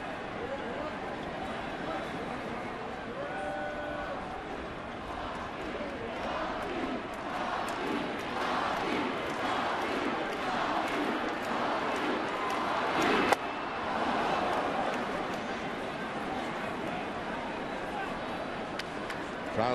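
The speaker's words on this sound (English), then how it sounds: "Crowd starting the poppy chant, trying to get David Ortiz out of this funk." Large baseball crowd at Fenway Park in Boston chanting during a Baltimore at Boston game for David Ortiz, a steady roaring mass of voices that swells and surges for about twenty seconds with no single voice standing out.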